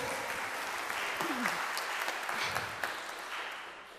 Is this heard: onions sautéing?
no